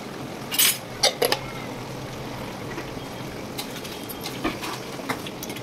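A spoon scrapes and clinks against a pot while egg dum biryani masala is stirred, a few sharp metallic knocks near the start and softer scraping later over a steady background hum.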